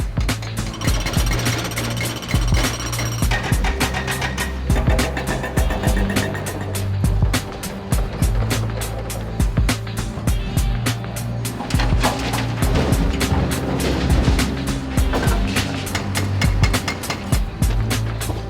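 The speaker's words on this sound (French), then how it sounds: "Une dizaine de pelleteuses et de BRH vont se relayer pendant 20 heures sans discontinuer pour créer la brèche" Hydraulic rock breakers hammer in rapid rattling bursts while excavators rumble, demolishing a railway embankment and old bridge abutments on an SNCF worksite at Saint-Gratien; loud, close, continuous pounding with engine drone underneath.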